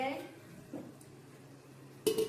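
A metal lid clanks down onto a pot of chicken biryani near the end, a brief bright clatter after a quiet stretch of low kitchen noise.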